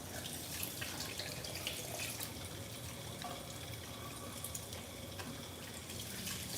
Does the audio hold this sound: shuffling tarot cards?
no